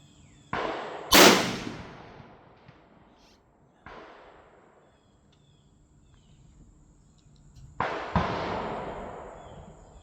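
Two sharp, loud reports from a Marlin 336 lever-action rifle firing 220 grain jacketed flat-nose rounds outdoors, each blast followed by a decaying echo, with a fainter crack in between and quiet pauses around them.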